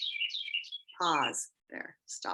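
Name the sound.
bats chirping on a live cam stream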